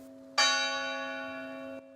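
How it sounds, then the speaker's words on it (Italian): A single church bell toll in L'Aquila rings out clearly, a bright struck onset followed by a long sustained humming decay, heard alone and fairly distant. "mentre risuonano i rintocchi delle campane e tanti quanti i nomi delle vittime"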